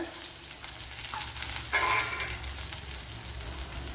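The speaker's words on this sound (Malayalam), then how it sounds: "ചെറിയൊന്ന് മൂപ്പിച്ചെടുക്കാൻ നാലഞ്ച് കൊച്ചുള്ളി ഇട്ട് കൊടുക്കാം" Small onions frying in hot oil in a pan, a steady close sizzle with a brief stirring flare in the middle, continuous and even throughout.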